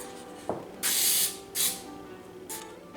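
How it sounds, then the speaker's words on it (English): Cooking spray hisses onto muffin tins in a home kitchen in three bursts, the first long and strong and two shorter ones after it, with a small clink just before. "I'm going to spray the muffin tins"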